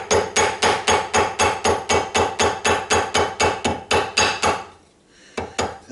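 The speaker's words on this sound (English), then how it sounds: "You want a small ball peen to get in the gaps" A small ball peen hammer taps rapidly around the edges of a paper gasket, about fifteen sharp, evenly spaced metallic knocks close up, then a brief pause and two final taps.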